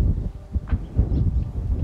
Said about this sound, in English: It's in the north of the Dominican Republic and it's a very windy place,